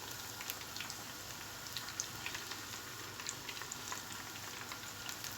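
Chicken pieces for a KFC-style recipe frying in hot oil, a constant close crackle dotted with quick irregular pops, with no voices.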